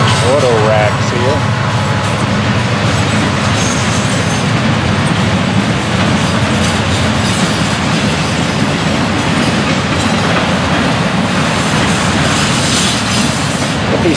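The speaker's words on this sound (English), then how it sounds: "Here's a train for you to look at." A Florida East Coast freight train carrying auto racks rumbles past close by with steady clattering wheels, loud and continuous, while a person talks over it.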